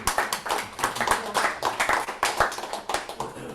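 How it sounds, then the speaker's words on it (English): Members of a ukulele group clapping their hands, a loose run of distinct claps close to the microphone, with rhythmic bursts in small overlapping clusters throughout. "You have to clap again, I had us muted."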